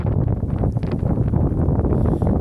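Steady wind buffeting a microphone outdoors while a line is being pulled, a continuous low rumbling roar filling the clip, loud and close, with no talking.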